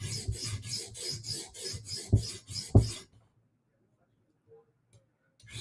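A knife edge being rubbed on a whetstone to remove the burr, about a dozen rhythmic rasping strokes close up, two of them sharper, then sudden quiet with a few faint ticks.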